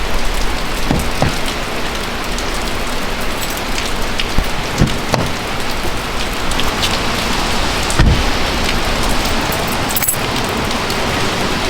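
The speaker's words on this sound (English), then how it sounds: "got rain all over the camera lens" Steady, heavy rain pours down continuously, with occasional louder drops and taps standing out against the constant hiss.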